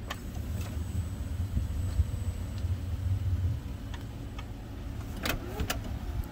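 The power sliding door of a 2019 Dodge Grand Caravan SXT closes with a steady motor hum over low rumble, ending in a couple of latching clunks near the end.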